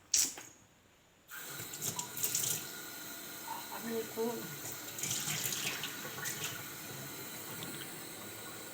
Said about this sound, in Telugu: ఇంకా హాఫ్ గ్లాస్ వాటర్ అనేది యాడ్ చేస్తాను.